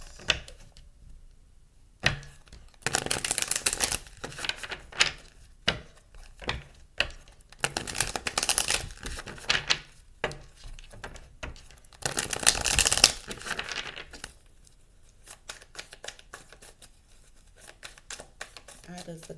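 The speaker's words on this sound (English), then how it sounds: "All right, we're gonna shuffle a couple of times." Bursts of rapid riffling and soft card snaps come in several rounds, close and fairly quiet, with brief pauses in between.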